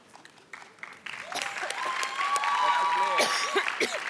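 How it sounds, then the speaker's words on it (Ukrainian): A TV talent show audience at X-Factor Ukraine claps and cheers, the applause building from scattered claps into a sustained ovation, with whistles and a voice rising over it. "Оплески, будь ласка, для Олі Цепкало."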